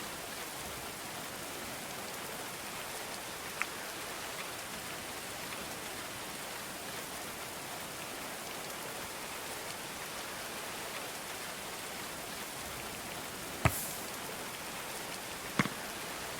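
Steady rain falls in the medieval colony-building game Going Medieval, a constant soft hiss with a few brief sharper clicks near the end, no voices.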